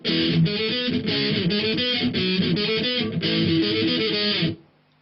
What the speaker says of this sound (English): So it's a mixture of power chords, some single notes and some palm muting.